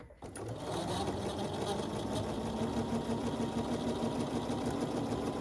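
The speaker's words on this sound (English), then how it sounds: "I'm going to sew on each side of that line." A sewing machine runs steadily, stitching along a marked line on pinned quilt pieces for a holiday block-of-the-month quilt. The motor hum is close and loud, with no pauses.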